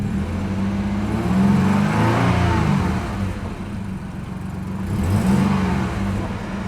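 A 2003 Jaguar X-Type engine revving as the gas pedal is pressed, two swelling rises in pitch and loudness over a steady mid-range hum, close and loud, with no talk.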